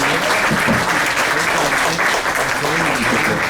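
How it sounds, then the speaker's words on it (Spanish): Audience at a conference on the human rights of people with disabilities applauds a speaker, a licenciada, with dense, steady clapping that fills the hall throughout, with a faint voice underneath. "Vamos a darle un fuerte aplauso"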